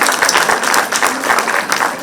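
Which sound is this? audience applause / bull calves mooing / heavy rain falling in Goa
audience applause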